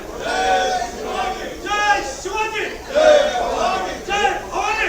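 Ruling party legislators chant slogans and celebrate on the steps of the legislature building, a loud crowd of massed voices in rhythmic, repeated shouts filling the space close by.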